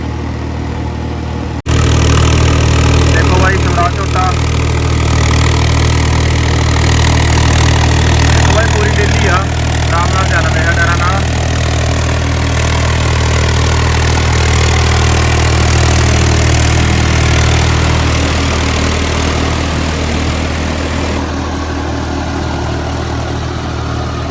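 A Swaraj 855 tractor on big tyres runs continuously while puddling a muddy field, a loud, steady low engine drone throughout. Voices are faintly present under the engine.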